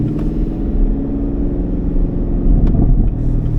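A 2024 LT1 Camaro rumbles loudly up close with a deep, throbbing exhaust note, broken by a couple of sharp exhaust pops near the start and again later.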